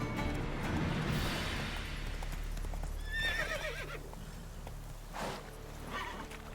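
Roach, the horse in The Witcher 3, neighs in a couple of shrill whinnies over a steady rumble of hooves as it gallops, close and clear with no talking.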